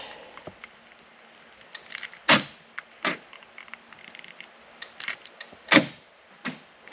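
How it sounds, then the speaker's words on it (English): Power door locks on a Ford F150 pickup, after a remote starter and keyless entry install, fire in a series of sharp mechanical clunks, several distinct actuations spaced unevenly, close by, over a faint electrical hum and small clicks. "The door locks now lock and unlock the door like they're supposed to."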